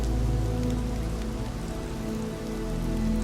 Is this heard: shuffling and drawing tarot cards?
no